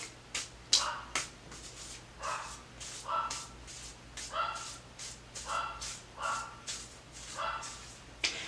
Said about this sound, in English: My dog loves barking.